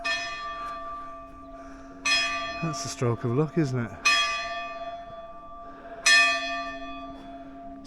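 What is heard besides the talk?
church bells ringing in Abruzzo, Italy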